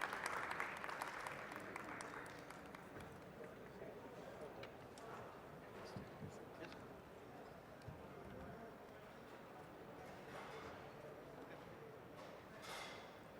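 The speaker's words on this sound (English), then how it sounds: "A round of applause, please, ladies and gentlemen." Audience applause at a housing conference session, a steady wash of many hands clapping at moderate distance that carries on for over ten seconds, with a few scattered louder claps, fairly faint overall.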